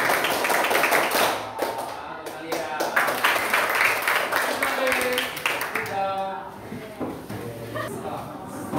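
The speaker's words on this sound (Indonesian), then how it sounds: "Tepuk pramuka." A class of pupils doing a scout clap (tepuk pramuka), rhythmic bursts of group clapping mixed with voices and chatter throughout, fairly close and busy.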